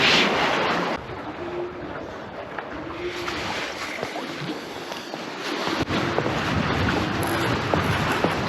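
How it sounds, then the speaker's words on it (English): Strong wind blows across the shore while squid fishing on Kangaroo Island, roaring and buffeting the microphone continuously, with gusts and rumbles. "So windy over there."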